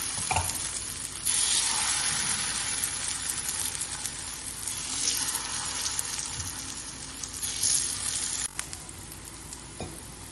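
Raw banana slices fry in oil in a pan, a bright, close sizzle with occasional clinks and scraping as pieces are placed and moved, steady throughout with no speech.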